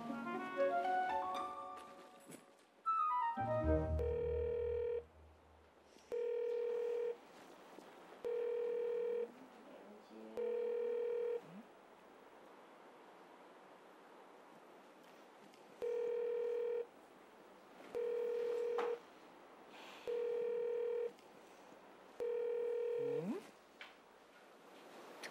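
An unanswered phone call: a telephone ringback tone repeats as evenly spaced, clean electronic beeps about two seconds apart, preceded by brief dialing sounds and quiet room background.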